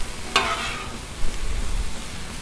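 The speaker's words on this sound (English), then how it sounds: "Want to get just a slight sear on them veggies before we throw the cabbage in with it." Vegetables sear on a hot Blackstone griddle, a soft steady sizzle broken by a sharp scrape of a spatula stirring them early on and another light clatter later.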